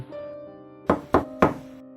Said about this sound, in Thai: ได้ยินเสียงเคาะดังจากหน้าประตูบ้าน